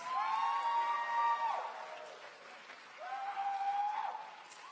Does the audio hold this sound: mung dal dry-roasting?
no